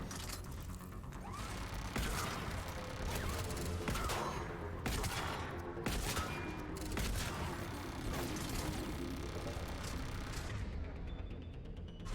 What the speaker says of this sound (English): I can penetrate the shield with the shotgun now.